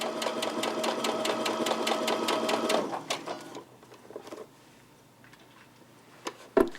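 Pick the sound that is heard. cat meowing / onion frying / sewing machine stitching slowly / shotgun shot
sewing machine stitching slowly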